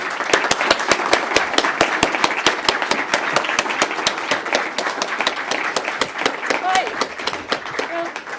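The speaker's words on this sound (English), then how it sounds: "So I think we owe you a big round of applause for all of this." Strong audience applause closing a conference session, sharp clustered claps loud and near, rhythmic at times, with a voice briefly heard near the end.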